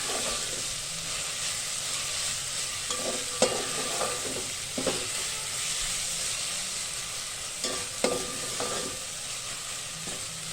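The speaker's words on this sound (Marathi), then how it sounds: "आपल्याला आता लसूण खोबरं परतवून घ्यायचं." Garlic and dried coconut paste sizzle steadily in a hot pan for masale bhaat, with a close, continuous hiss and occasional scraping clinks of a spatula as it is stirred.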